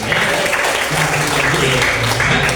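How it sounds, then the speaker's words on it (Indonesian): A classroom of people clapping together loudly and steadily, close by, with a voice faintly audible underneath. "Sekali lagi mari tepuk tangan untuk kita semua."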